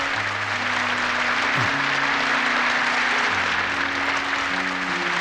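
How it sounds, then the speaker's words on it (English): Sustained concert crowd applause in a video game, loud and even, over low held tones of background music. "The thundering applause is different from the one before the concert started."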